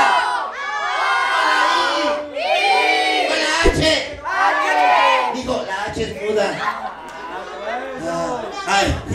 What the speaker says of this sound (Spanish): Fíjate cómo de este lado gritan con la O.